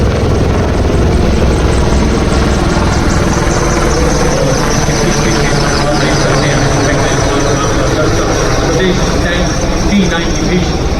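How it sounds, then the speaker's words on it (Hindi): An Indian Army Rudra attack helicopter passes by during a Republic Day parade rehearsal, a loud, continuous rotor and engine roar that fills the whole stretch, with a commentator talking over it. "अब आप देख सकते हैं युद्ध भूमि का परिदृश्य को बदलने वाला रुद्र हेलीकॉप्टर आपके सामने से बड़ी शान से गुजरता हुआ"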